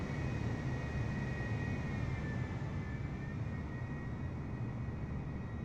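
Simulated airplane engine in Microsoft Flight Simulator, a steady faint droning hum with a thin high whine layered over it, unchanging throughout.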